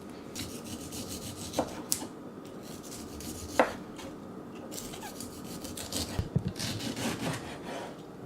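A knife works through beef steak, trimming off a discolored piece before slicing, giving soft repeated rubbing and rasping strokes with a few sharper clicks, close and quiet with no talking.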